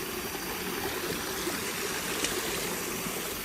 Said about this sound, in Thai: น้ำตกคำหอมนี่อยู่ในเทือกเขาภูพานนะครับ